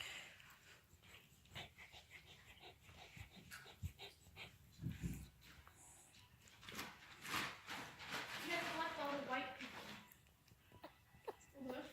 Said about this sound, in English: Those little squeak noises are the noises the puppy makes.